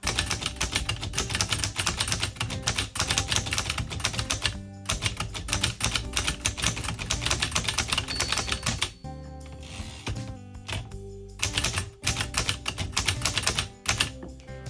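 Steady rapid keystrokes on a 1925 Corona Four typewriter clacking continuously, with brief pauses and a carriage shift near the end; close and fairly loud.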